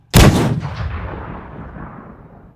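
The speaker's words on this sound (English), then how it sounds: "These are some British cannon sounds that I've designed" A designed British cannon shot booms out as a single loud, close blast, layered with a heavy low-end thump and a long rumbling tail that slowly fades across the rest of the clip.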